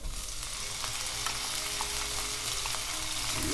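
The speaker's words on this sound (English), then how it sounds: "Saute it a little bit." Tomatoes sauté for penne all'arrabbiata in a pan, a dense continuous frying sizzle with faint stirring crackles, close and even throughout.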